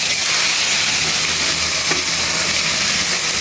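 Boiled taro drops into hot oil with cumin seeds, setting off a steady, close sizzling hiss that carries on unbroken with no talking.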